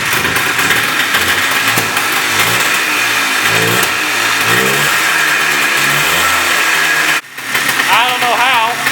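An old quad ATV engine cranking and catching, then running at a loud, uneven idle close by with rough revving pulses, briefly dropping before settling back.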